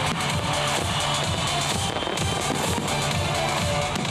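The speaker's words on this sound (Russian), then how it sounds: "Пять тысяч 800 шаров в небе по числу выпускников и 20-минутный салют." Dense, continuous crackling and popping of a fireworks display at a Moscow school graduation celebration, loud and overlapping, with rapid bursts throughout and no voices.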